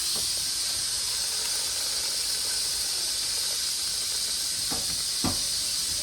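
Continuous high-pitched hiss of steam escaping from a pressure cooker cooking dal, steady throughout, with a couple of faint clicks near the end.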